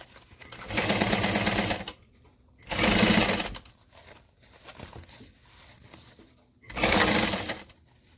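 Sewing machine stitching a seam with a 3/8 inch stitch, running in three loud bursts of rapid mechanical chatter separated by short pauses, close up with no talk.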